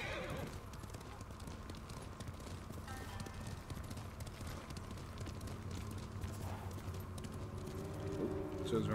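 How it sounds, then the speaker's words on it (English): Horse hooves clip-clop in a rhythmic gallop in the video game Ghost of Tsushima, faint and continuous beneath game audio, with a brief whinny and voices speaking. "Get on the horse."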